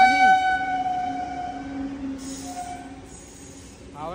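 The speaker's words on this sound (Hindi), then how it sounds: "हावड़ा न्यू दिल्ली राजधानी भाई क्रॉल कर रही है यहां पे" The Howrah–New Delhi Rajdhani train crawls past slowly at night, a loud sustained horn-like tone fading into rolling rail noise with wheel squeals and bursts of hiss.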